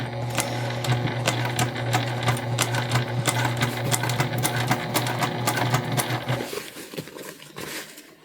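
A sewing machine stitches a bum bag in one steady, close run of fast rhythmic clatter over a low motor hum, slowing and stopping near the end.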